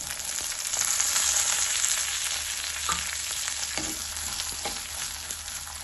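Curry leaves and chopped small onions fry in oil for a vegetarian fish gravy, making a steady, close hissing sizzle with a few faint stirring knocks and no talk.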